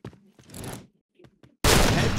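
A gunshot in the first-person shooter Point Blank lands as one loud, sudden blast near the end, after a stretch of quieter scattered game sounds and brief noises.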